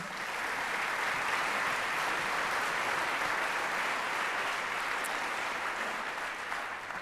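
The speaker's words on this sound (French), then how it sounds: "une main d'applaudissements pour tous nos chanteurs est de mise." Gala audience at the Jeunes Ambassadeurs Lyriques concert applauding the singers, a dense, even roar of clapping sustained throughout at moderate volume.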